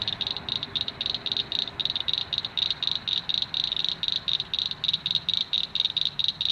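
A frog croaks outdoors beside a trail, sounding a steady run of rapid rattling pulses that repeats evenly throughout, close and fairly loud, with no voices.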